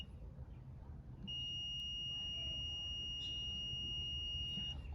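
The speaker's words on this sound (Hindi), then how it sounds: "आप सुन सकते हैं शायद कि एक बीप की नॉइज़ आ रही है मेरे मल्टीमीटर से" Continuity testing on the heater circuit of a zirconia oxygen sensor: the multimeter starts a clear, high, continuous tone after a moment of low hum and holds it unbroken to the end, with faint handling noise underneath.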